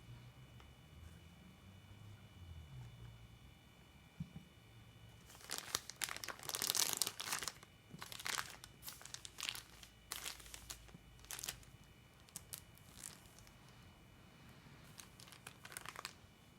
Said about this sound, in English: You put the paste in a small ziploc bag.